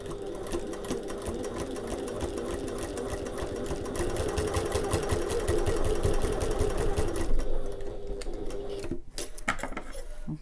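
A sewing machine runs rows of stitching across a sling bag, a continuous close whir for most of the stretch before slowing to a stop near the end.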